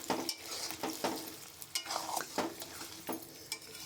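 Starfruit being stirred in sugar syrup for a pickle, a soft bubbling sizzle broken by a regular series of scraping spoon strokes roughly every half second, close and moderately loud.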